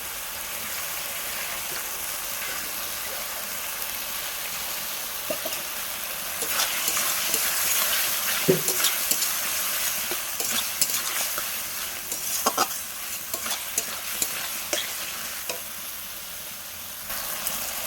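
Potatoes frying with spices in a pan while being stirred, a steady sizzle with scattered scrapes and clinks of the utensil against the pan, growing busier midway, with no talking.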